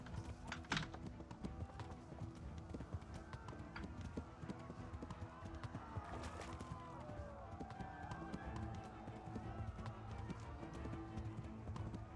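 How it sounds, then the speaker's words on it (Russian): Horse hooves gallop in Kingdom Come: Deliverance, a steady fast clip-clop under game ambience, fairly quiet throughout. "Лошадь, поехали отсюда."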